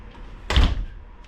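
Door of a Flagstaff 26FKBS travel trailer swung shut at a campsite, a single firm thump with a brief latch rattle, close and alone.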